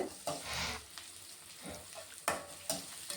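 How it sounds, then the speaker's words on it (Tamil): Onions and green chillies sauté in a pan with a close, steady sizzle. Scrapes and knocks of stirring break in at intervals, and no voices are heard. "பல்லாரி வெங்காயம் பச்சை மிளகாயும் நல்லா வணக்கிக்கலாம்"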